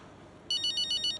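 A phone in the video game F1 25 rings with a bright electronic trill, several rapid pulses in a short burst after a moment of quiet.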